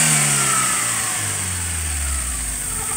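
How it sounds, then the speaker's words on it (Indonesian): A Suzuki APV engine, revved to about 4000 rpm, winds down after the throttle is released; the mid-pitched roar falls steadily, loud and close, with no voices. "Digas langsung dilepas"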